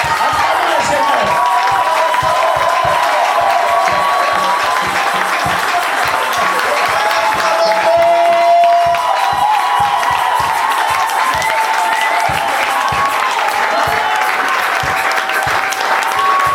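Congregation at a church worship service applauding steadily with scattered cheers and voices, a loud, dense, continuous wash of clapping that holds for the whole stretch.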